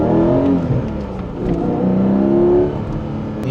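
A Porsche 718 Cayman GTS 4.0 engine revs loudly and close by, rising and falling in pitch through two sustained pulls with no talking.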